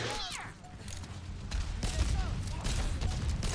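Pharah fires during an Overwatch match in a dense burst of gunfire and impacts, with blasts and mechanical clatter over a rumbling low end, while players talk excitedly underneath.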